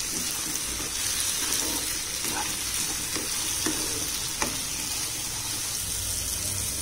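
Cooked tapioca chunks being stirred into sautéed onions in a frying pan, with a steady close sizzle of hot oil and occasional spoon scrapes and knocks against the pan throughout.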